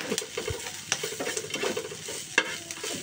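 Vegetable fried rice is stir-fried in a pan, giving a steady close sizzle with repeated scraping strokes and a couple of sharp metallic knocks, and no voices.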